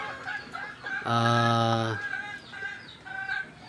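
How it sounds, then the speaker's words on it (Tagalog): A Texas gamecock crows once, loud and close, in a chicken coop on a small farm. Softer clucks and calls from other fowl come before and after the crow. "Ito naman yung mga manukan natin. Mga Texas na panabong."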